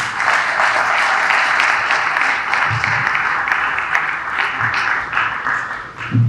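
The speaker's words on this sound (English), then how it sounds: "Keep clapping, keep clapping, keep clapping, keep clapping, keep clapping." Summit audience giving sustained applause, a broad continuous wash of many hands clapping that swells and dips slightly over several seconds, with a few faint voices mixed in.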